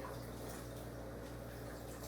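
Water pours steadily into a stockfish pot for Nigerian Ora soup, a soft continuous liquid rush that runs the whole time at low level, with no talking.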